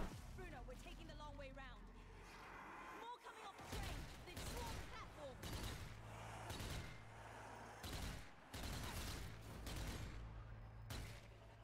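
Rapid bursts of gunfire in the Zombie Army 4 video game, repeated volleys with short gaps, loud and close, under ongoing talk from a player.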